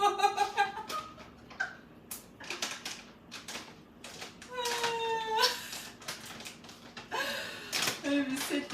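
A pet cat meows a few times indoors, short tonal cries scattered among rustling and handling noises, with a person talking nearby.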